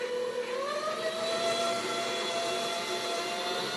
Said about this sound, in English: Lowering the mixer head. And I'll go right to speed number 2. This is a real slow mixer.